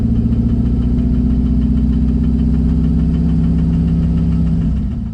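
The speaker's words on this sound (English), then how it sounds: "we developed a pretty gnarly clunking sound" A drift Corvette makes a rough, rhythmic clunking knock over its engine drone while driving. The sound is loud, close and steady throughout, then eases off right at the end, with no talking.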